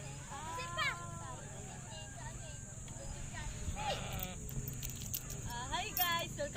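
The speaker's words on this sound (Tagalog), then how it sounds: "May isang tupa dito" Sheep bleating on a farm, several wavering bleats at varying distances spread across the clip, with people talking and background noise underneath.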